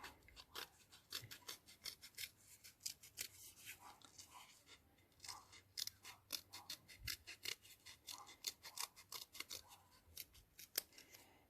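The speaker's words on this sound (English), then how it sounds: "I'm going to cut along the line here." Scissors snipping through paper along a drawn line, a quick close run of crisp clicking cuts in uneven bursts with brief pauses between, quiet and with no talking.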